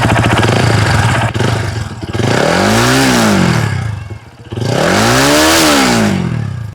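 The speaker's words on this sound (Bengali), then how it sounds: "তো বাইকের এক্সস্টের সাউন্ডটা আপনাদেরকে একটু শোনাই" Lifan KPT 4V motorcycle exhaust, loud and close, with the engine idling then revving up and back down twice in two clear swelling bursts.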